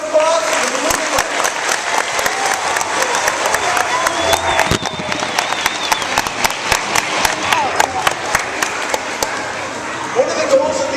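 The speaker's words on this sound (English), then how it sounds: "Ladies and gentlemen, let's please get a big round of applause for the beluga whale" An aquarium show audience applauds the beluga whale with dense, sustained clapping and some cheering, along with crowd noise and a few sharp claps.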